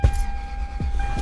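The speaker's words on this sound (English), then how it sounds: "start the car." A Toyota Land Cruiser engine cranks and catches, a short burst of starter and ignition settling into a steady idle, close and fairly loud with no voices.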